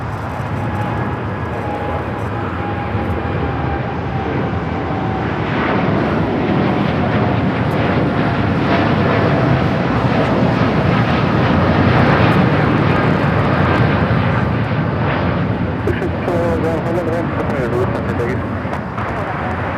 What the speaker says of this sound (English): Dreamliner taking off here on the south.